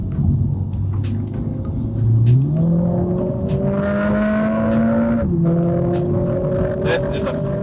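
A 2020 Mercedes-Benz CLA 45 AMG with suspension and exhaust set to sport accelerates hard, its loud engine note climbing steadily through upshifts, with a brief dip at each gear change.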